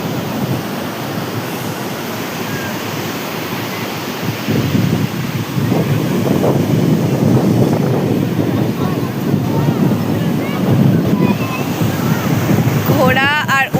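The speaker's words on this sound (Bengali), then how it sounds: "জলের উথাল পাথাল ঢেউ দেখতে মজাই লাগে।" Ocean waves break on the beach at Puri at night, a continuous rushing roar of surf that swells louder partway through, mixed with wind buffeting the microphone.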